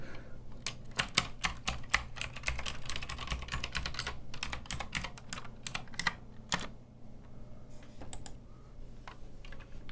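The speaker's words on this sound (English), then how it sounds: "I'll just see what happens if I just move my hand across my entire keyboard." A hand sweeps across a full computer keyboard, producing a dense, steady run of close, crisp key clicks and clacks for nearly ten seconds, with no voice.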